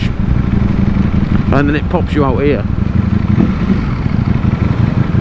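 A racing motorcycle on the Isle of Man TT course gives a loud, continuous engine roar and wind rush while someone talks over it.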